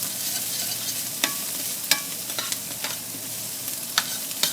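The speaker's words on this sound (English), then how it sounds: "we're going to add some diced onions, and we're going to cook these for just a second" Diced onions and tasso stirred in a hot pan for shrimp and grits, with a steady close sizzle and scraping stirs that produce sharp clicks every second or so and no talking.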